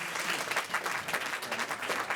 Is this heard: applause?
yes